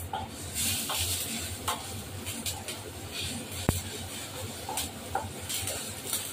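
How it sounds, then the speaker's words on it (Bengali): Cumin and chili powder are stirred in a hot pan for a spicy tengra fish curry. Quiet, intermittent scraping strokes sound over a low sizzle, with a single sharp clink partway through. "জিরে গুঁড়ো দেবো, স্বাদ মতো লঙ্কা গুঁড়ো দিলেই হবে। দিয়ে এটা নাড়াচাড়া করবো।"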